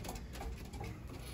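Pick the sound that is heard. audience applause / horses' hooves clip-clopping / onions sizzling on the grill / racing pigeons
racing pigeons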